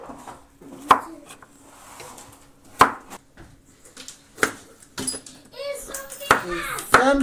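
A knife chops carrots for a stir fry on a cutting board, giving a few sharp, evenly spaced knocks. A pause follows, then quicker, busier cutting near the end. Someone speaks in between the cuts.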